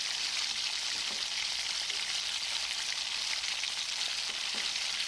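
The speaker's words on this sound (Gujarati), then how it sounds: "તો મેં અહીં 2 થી 3 મિનિટ માટે ટમેટાની પેસ્ટને પણ કૂક કરી દીધી છે" Tomato paste sizzling and frying steadily in a pan while cooking olo, a constant close, bright crackle with no talking.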